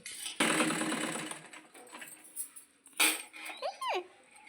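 A sewing machine stitches a blouse neckline in a fast whirring run of about a second and a half, then stops and gives a shorter burst, with faint high chirps just after.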